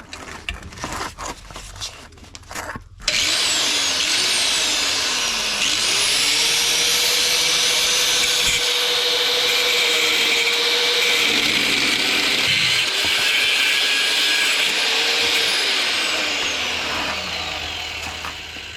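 A power cutting tool grinds through rear suspension bolts at the nut on a Willys build, starting after a few seconds of handling noise and then whining loudly and continuously, pitch dipping as the blade bites into the metal.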